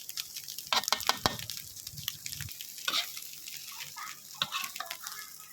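Sweet preserved radish with egg crackles quietly in a pan being stir-fried, with a cluster of quick spatula scrapes and taps early on, then lighter, scattered stirring sounds nearby.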